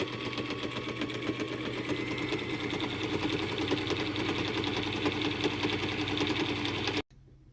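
Sewing machine stitching fabric for a pair of shorts, a close, fast, even mechanical whir with rapid needle clatter running continuously before stopping abruptly.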